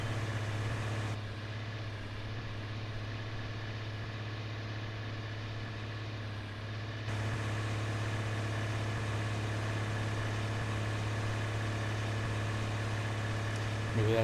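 A tractor engine in Farming Simulator 19 runs at a steady low idle, a constant deep drone with a slight shift partway through, heard alone without talk.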